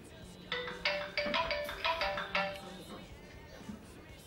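A telephone rings for a live on-air call in a broadcast studio, a repeated electronic ringtone in bursts over a couple of seconds, with soft background voices around it.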